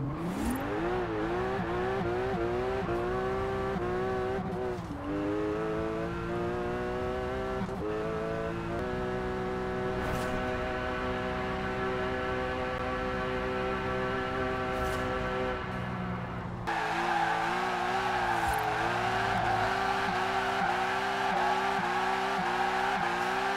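A Rocket Bunny 2015 Porsche Cayman GTS street build in Forza Horizon 4 revs hard and loud, climbing through gears with rising engine tones, bouncing off the rev limiter and shifting repeatedly, alone without talk.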